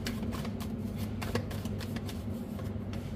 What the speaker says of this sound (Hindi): पहले कार्ड्स को ले लेते हैं